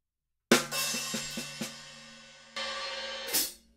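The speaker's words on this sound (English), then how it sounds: "Big accent on the right hand, accent on the left hand with the open hi-hat, and then the diddles are played on the snare" A short, aggressive drum fill: a sharp accent, then quick snare diddles and, near the end, a washy open hi-hat accent, close and alone.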